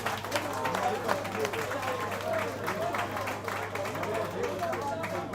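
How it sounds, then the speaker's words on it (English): Applause from a pool federation gathering in Kenya, given for the chairman at a tournament event, a steady wash of clapping hands with crowd murmur running under it throughout. "A clap for the chairman."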